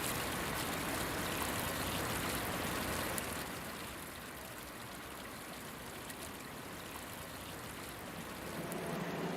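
Arroio Dilúvio creek flowing beneath the Ponte de Pedra stone bridge in Porto Alegre, a steady broadband wash of running water that is slightly louder at the start and end, with no talk.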